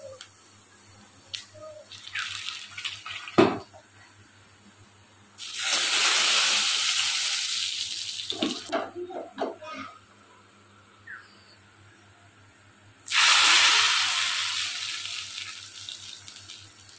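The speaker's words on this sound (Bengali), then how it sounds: "এবার আবার সম্বরাটা দিয়ে দিচ্ছি।" Hot sambara tempering is poured into vegetable khichuri, setting off two loud hissing sizzles several seconds apart, each fading slowly, with quieter clatter and small kitchen sounds in between.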